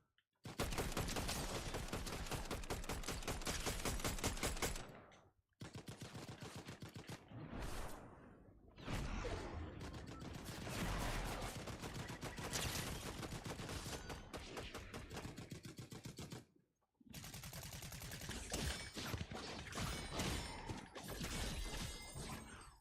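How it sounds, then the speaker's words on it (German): Rapid, sustained bursts of automatic gunfire from a video game, loud and dense, with brief pauses between volleys and no talking. "Hinter mir Schuss."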